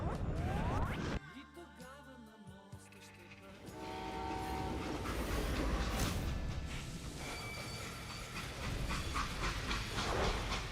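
A steam train in the western video game Call of Juarez rumbles along with hissing steam and sustained whistle tones, loud and continuous, with a voice talking over it.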